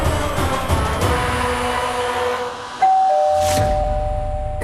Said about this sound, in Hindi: घंटी बजी, टिंग